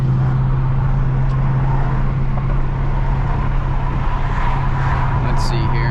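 Wind rushes past the open windows of a 2020 Dodge Challenger Scat Pack Widebody as it drives, a loud steady roar over a low engine drone inside the car.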